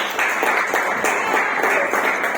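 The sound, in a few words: applause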